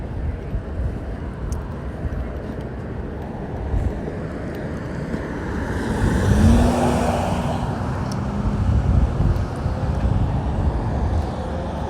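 Cars pass along a busy driveway near a 7-Eleven, heard from someone walking: a steady broadband traffic rumble with wind buffeting the microphone, and one vehicle swelling louder midway before fading, with no speech.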